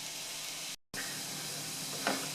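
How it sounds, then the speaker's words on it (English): Vegetables and mushrooms sizzle in a pan with a soft, steady frying hiss, broken by one very short dropout and ending with a faint stir. "Oh, listen to the sizzle, look at all those colours."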